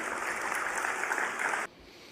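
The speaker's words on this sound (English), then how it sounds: "You can clap for that." A crowd at a political rally breaks into dense, steady applause that runs for about a second and a half, then cuts off abruptly.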